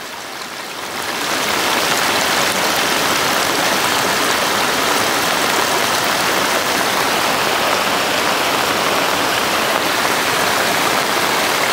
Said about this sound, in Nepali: यहाँ पानी गुटुङटुङ गइरहेको छ